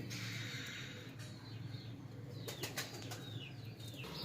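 Wings of pearl-marked pigeons of a long-kept breed flapping in short bursts, with rapid fluttery beats near the end and faint bird calls in the background.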